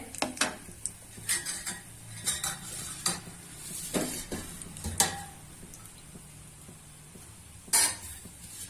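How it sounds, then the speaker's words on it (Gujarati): Crushed almonds and cashews fried in hot ghee for dudh pak, with a faint sizzle under close scraping and clinking of a spoon against the pan in irregular strokes, fairly quiet, no voices. "આપણું ઘી ગરમ થઈ ગયું છે તેમાં થોડી આપણે બદામ ને કાજુ છે ક્રસ કર્યા રાખ્યા છે એ નાખીશું"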